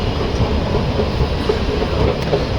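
A Delhi Metro Pink Line train running fast: a loud, close, continuous rumble from inside the carriage with faint rhythmic rattling and no talk.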